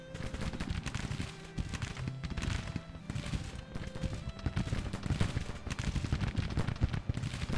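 Battlefield gunfire in the Civil War strategy game Grand Tactician: The Civil War, with dense, continuous rattling musket volleys and scattered booms, all at a steady, moderately loud level without pause.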